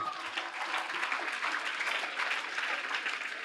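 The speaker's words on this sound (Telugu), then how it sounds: "గట్టిగా చప్పట్లు కొడదాం మెడిటేషన్కి." A group claps together at the close of a guided meditation session for schoolchildren, producing a dense, continuous burst of applause that fills the short moment evenly.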